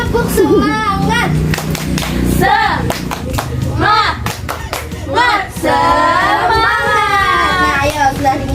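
A primary-school class claps out the rhythmic 'tepuk semangat' cheer, with sharp, evenly timed hand claps mixed with loud children's voices chanting along throughout.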